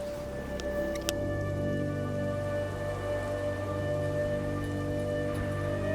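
Steady rain falls outdoors near the perimeter fence of a nuclear power plant amid conflict ruins, a dense even patter with a sharp drip or tap about a second in, with no voices.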